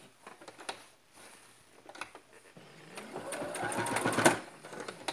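An electric sewing machine stitches a frock, starting with a light, uneven patter and building into a steady, louder mechanical whir over the final seconds.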